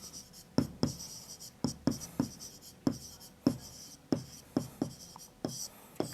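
Chalk or marker strokes on a classroom board during a class 6 algebra lesson, a rhythmic series of sharp taps and short scratches, a dozen or so in quick succession, close and clear with no talk.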